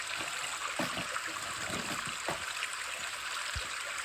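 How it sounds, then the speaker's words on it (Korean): The iOS 15 stream background sound plays softly and steadily as flowing, trickling water, with small splashes and gurgles scattered over the wash. "시냇물이 이렇게 소리가 납니다"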